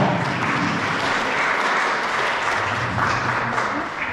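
An audience claps in welcome as the artist Ewa Zeller comes to the stage at an art presentation, dense sustained applause filling the room for the whole stretch, with a few voices faintly mixed in.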